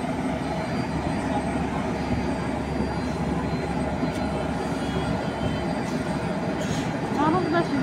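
Engine of a passenger launch on the Bhola river route, a steady loud droning rumble that runs unbroken throughout, with faint voices in the background.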